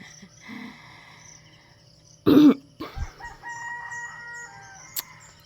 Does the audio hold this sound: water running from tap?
no